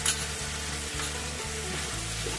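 Tomato paste is added to a hot pan for a Jain-style soya Manchurian, producing a steady close sizzle with a few light scraping stirs and no talking.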